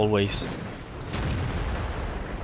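A T-34 tank cannon fires in a tank video game with a sharp, heavy boom that rolls into a rumbling low tail, while a voice speaks over the start.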